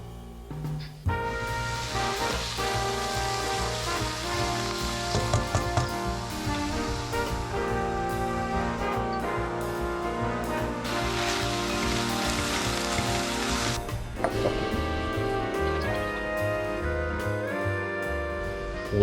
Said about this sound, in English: All that stuff's in the pan on a medium heat.